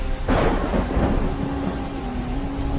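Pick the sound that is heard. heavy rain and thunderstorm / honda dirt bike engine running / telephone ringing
heavy rain and thunderstorm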